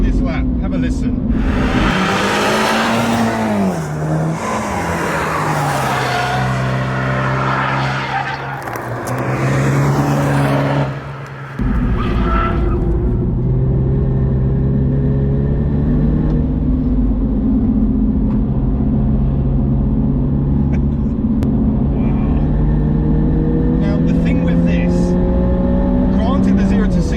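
A 306 BHP MINI JCW GP3 hot hatch lapping a track, its engine rising and falling through gear changes, revving hard near and loud, then settling into a steady droning pull for a long stretch.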